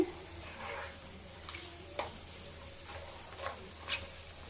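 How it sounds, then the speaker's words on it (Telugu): Peeled garlic cloves sizzling faintly in hot oil as a tempering for amla pickle, with a low steady crackle and a few soft clinks of stirring, quiet and close. "మనము ఒలిచిపెట్టుకున్న వెల్లుల్లి కూడా వేసేయండి ఒకసారి ఇలా కలిపేసేయండి ఈ వెల్లుల్లంతా ఆయిల్లో పడేటట్టు"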